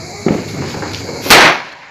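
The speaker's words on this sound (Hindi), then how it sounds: "अब मैं इस पटाखे को फोड़ने वाला हूँ" A Diwali firecracker explodes outdoors with one sharp, loud bang near the end, preceded by a smaller pop and a steady crackling hiss.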